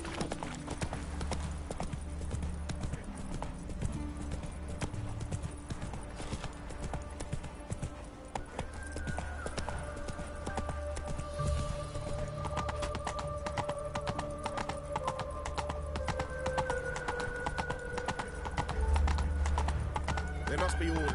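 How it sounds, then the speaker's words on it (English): In The Witcher 3: Wild Hunt, a horse gallops in a steady, quick hoofbeat rhythm over a busy game soundscape with music, with a whinny at one point and a brief spoken line. "Run, Roach."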